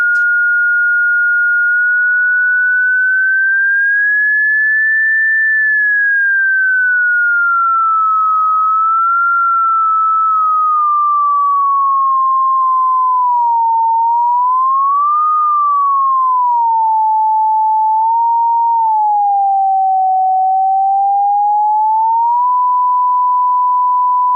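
A pure, steady sine tone wanders slowly up and down in pitch, gliding continuously for a long stretch without any break or other sound.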